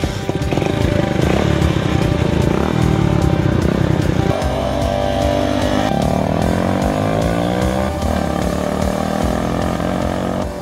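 An old motorcycle, older than its rider, drives down a road at a steady speed, its engine droning loudly and continuously with shifting pitch and wind noise, no talking.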